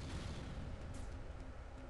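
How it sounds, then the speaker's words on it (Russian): Ship weapons in FTL fire as a dense, rumbling barrage of booming shots, with a faint higher volley partway through, steady and fairly loud with no voice over it. "Я выстрелю еще для надежности."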